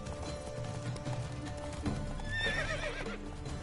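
Roach, a horse in The Witcher 3: Wild Hunt, clip-clops at a run with steady hoofbeats, then gives a high, wavering neigh near the end, moderately loud over faint game background.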